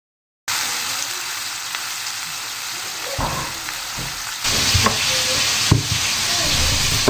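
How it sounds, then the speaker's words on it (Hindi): Marinated chicken thigh pieces go into a frying pan over a medium-high flame. After a brief silence, a loud, close sizzle starts and grows stronger as more pieces are added, with no speech. "अब जो पीसेस मैंने मैरिनेट करके रखे थे उन्हें सिंपली मैं फ्राइंग पैन में रखती चली जाऊंगी।"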